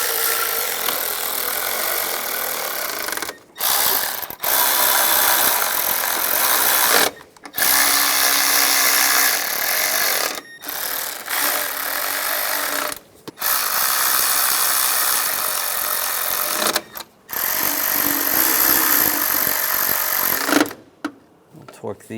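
Valve cover nuts are snugged down on a 1996-2002 Toyota 4Runner engine with a buzzing power tool, running in long loud bursts broken by short pauses.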